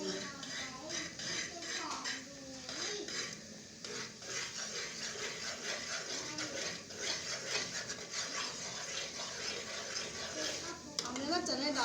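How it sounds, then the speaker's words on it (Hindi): A spoon stirring a thick gajak mixture in a pot: soft, continuous scraping and clinking against the metal at close range, while someone talks over it throughout. "अब इसको हम मिक्स करेंगे।"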